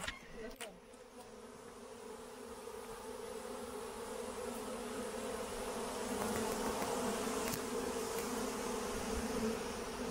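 A steady, droning hum of many bees buzzing together close by at a top bar hive, continuous and slightly swelling over several seconds, with no talking.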